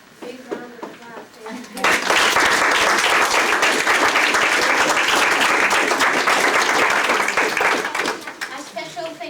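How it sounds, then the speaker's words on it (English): An audience bursts into loud, sustained applause, many hands clapping densely for several seconds before fading, with talk and murmuring heard before and after the clapping. "Big round of applause"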